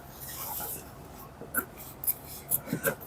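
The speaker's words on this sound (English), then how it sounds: "I'm going to go ahead and cut out my length." Scissors snip through a length of fabric for a bridal robe, a series of close, crisp cutting strokes and rustles spaced irregularly over quiet room tone.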